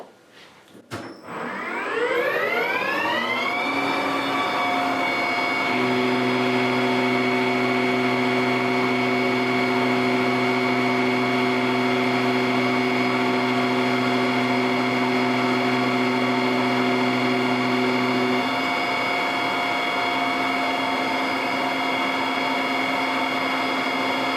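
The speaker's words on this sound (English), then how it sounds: "you'll probably hear a little bit of difference on how the lathe is running" A metal lathe spins up from rest to a steady whine, then takes a 20 thou cut, adding a low, even droning tone for several seconds before settling back to running alone; loud, close and continuous without talk.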